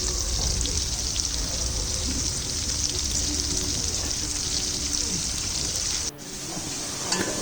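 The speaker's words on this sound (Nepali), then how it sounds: "पाक्दैछ टमाटर र प्याज" Chopped tomato and onion frying in a pan for chowmein, a steady loud sizzle with a hiss that carries on throughout, briefly dipping near the end before resuming.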